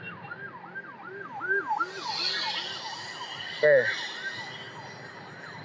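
An ambulance siren wails from a road in Indonesia, its rising and falling tone repeating steadily and fairly close, while traffic rumbles and someone briefly speaks.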